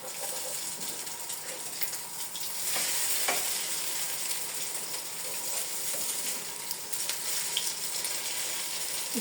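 An omelette fries in a pan at breakfast, giving a steady soft sizzle with a few faint clicks and scrapes and no talking.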